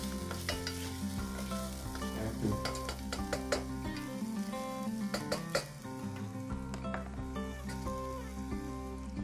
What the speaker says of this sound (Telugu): దాంట్లో నేను కొంచెం ఆనియన్స్ ఫైన్గా చాప్ చేసుకున్న ఉల్లిపాయలను యాడ్ చేసుకున్నాను